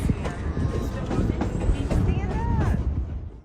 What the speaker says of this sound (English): The train was moving through the countryside in its signature rhythm.